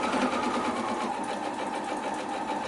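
A sewing machine stitches fabric along a marked line for half square triangle quilt blocks, a close, steady whirring and rapid needle chatter without pause.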